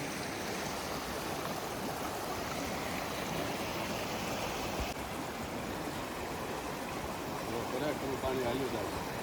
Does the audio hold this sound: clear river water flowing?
yes